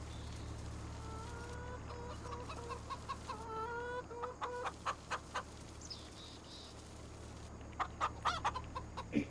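Farm chickens in a Farming Simulator 25 game cluck and squawk in short repeated bursts, with a rooster-like call, over a steady low ambient hum.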